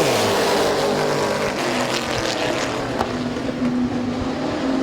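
Race cars roar together on the green flag at Midvale Speedway, a loud, dense, continuous engine drone rising as the field gets underway, with no talk.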